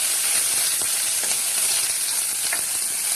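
Onion pieces fry on high heat in a pan for a restaurant-style palak mutter paneer base, giving a steady, close, loud sizzle with no talking.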